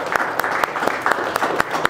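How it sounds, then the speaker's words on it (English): Audience applause at a tech meetup hosted in a company office, a brief burst of many hands clapping with sharp individual claps standing out, steady and fairly close. "big round of applause for them."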